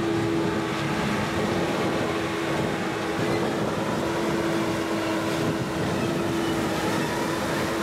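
A New Holland T6 Methane Power tractor engine runs as a steady, loud drone with a faint humming tone and broad rushing noise, continuous and with no one talking.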